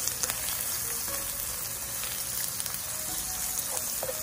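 Ginger and garlic frying alongside fish in a pan, a close, dense, steady sizzle with faint crackles and stirring, no talking.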